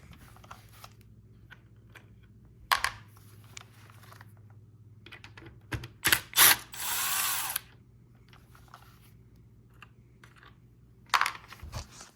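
A ratchet and socket work a 4mm bolt beside the brake reservoir on an Aprilia RS660, giving short clicking bursts separated by quiet gaps and one longer continuous ratcheting run, close up over a low steady hum.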